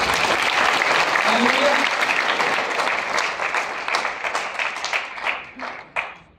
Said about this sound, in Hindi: ताली बजा के धन्यवाद करें